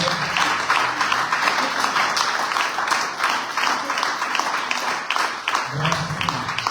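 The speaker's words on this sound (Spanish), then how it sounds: "Den un aplauso a Dios." Church congregation applauding after a prayer, sustained crowd clapping throughout, steady and moderately loud, with voices faintly mixed in.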